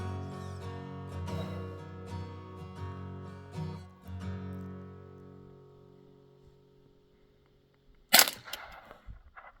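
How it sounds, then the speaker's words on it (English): Gunshot at an abandoned 1860s mine site: one sharp, loud crack near the end, following a stretch of fading ringing tones. "Okay, you hit it. Keep shooting."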